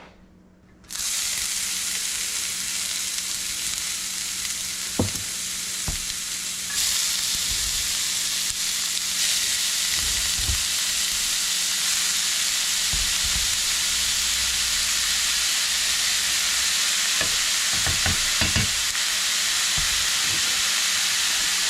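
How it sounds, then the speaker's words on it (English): Food frying in a hot pan with avocado nearby, producing a loud, continuous hissing sizzle for about twenty seconds, broken by a few soft clicks and knocks, with no talking. "now we're just going to let this fry"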